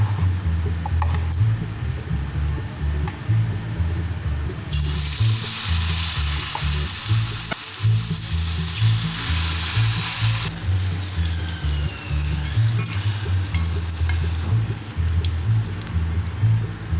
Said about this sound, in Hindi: अब मैं इसको तल रही हूँ।